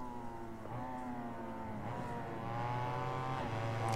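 Racing motorcycle engine of a BMW HP2 Sport in the PS5 game RIDE 4, a steady droning whine that climbs in pitch as the bike accelerates through the race, continuous and prominent with no talk.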